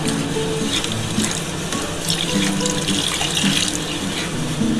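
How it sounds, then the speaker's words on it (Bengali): Water is poured into a pan of semolina on the stove, a steady close splashing rush that runs unbroken for about five seconds with no talk. "বন্ধুরা এবার আমি কিন্তু জল দিয়ে দিচ্ছি।"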